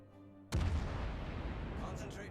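A sudden heavy blast of warship naval gunfire in World of Warships cuts in after half a second of quiet, then a loud rumbling roar decays slowly with crackling tail.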